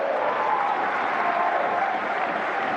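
Football stadium crowd cheering and applauding a player's tricks, a dense continuous roar of many voices heard at a distance with no pauses.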